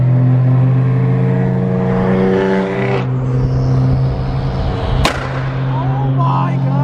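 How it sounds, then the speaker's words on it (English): Several cars rev at a busy car meet, loud layered engine drones holding and surging with a sharp crack partway through, amid crowd chatter and background voices. "everybody in this car meet is revving"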